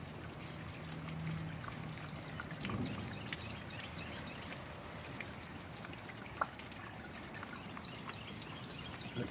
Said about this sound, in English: And it just starts pouring rain.